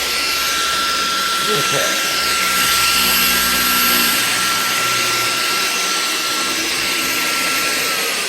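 A Dyson Gen5outsize cordless vacuum cleaner, extra large, runs with a loud steady whine and broad airflow hiss throughout, holding near and constant while a person speaks briefly over it.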